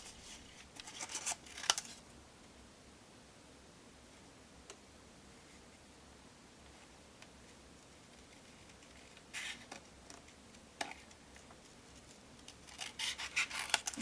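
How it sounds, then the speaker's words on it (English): Scissors trimming card paper at a craft table, faint close snipping and rasping in scattered bursts separated by quiet stretches, no voices. "So I'll just keep trimming."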